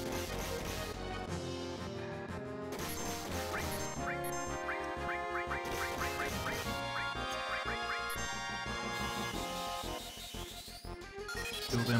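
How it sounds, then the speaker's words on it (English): Birds in Final Fantasy VII give out a run of quick, bright quacking calls over looping game music with tinkling tones, repeated in short bursts through the middle of the passage. "Them birds."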